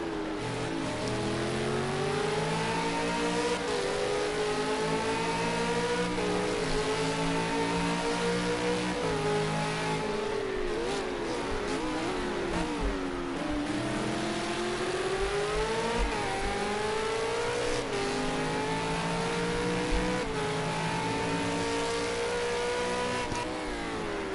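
A race car engine held at full throttle around Bathurst in Project Cars 2 roars continuously and loudly, its pitch climbing through gear changes and dipping briefly mid-run before rising again, with no speech over it.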